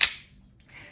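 A single sharp crack from a WE Hi-Capa 5.1 Type K airsoft gas blowback pistol firing one shot close by, its snap fading quickly, followed by a brief faint mechanical rattle.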